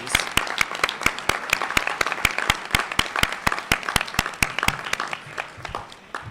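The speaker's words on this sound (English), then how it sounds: "Give ourselves a round of applause." A meeting audience claps in a steady, fairly sparse round of applause, sharp individual claps close by, tapering slightly toward the end.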